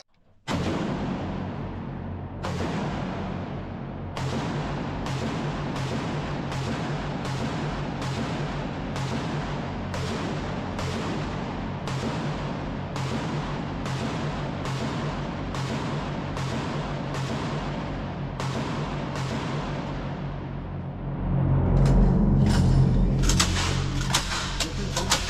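Repeated single gunshots from a 7.62x51 assault rifle during a function casualty test at an ammunition facility, sharp loud cracks at roughly one-second intervals, building to a denser, louder burst near the end.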